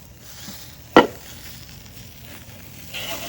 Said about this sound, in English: they will begin to flame up as that butter melts